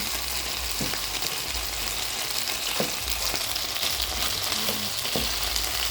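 Chicken wings fry in fish sauce in a pan with a steady, close sizzle, and a few soft scrapes and knocks mark them being flipped. No one speaks.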